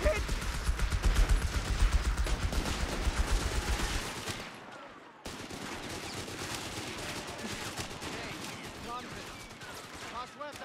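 Machine gun bursts and scattered gunfire from a Company of Heroes 3 battle, loud and dense for the first few seconds, then thinner shots over a steady battle din, with voices calling out in the game.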